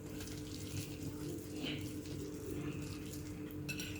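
A spoon stirs Black Forest birthday cake batter in a bowl after a small spoonful of vinegar is added, giving a steady run of close scraping and light clinking against the bowl with no talking.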